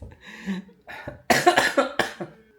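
A person coughs several times in a harsh, hacking fit, preceded by a couple of throaty breaths, close to the listener.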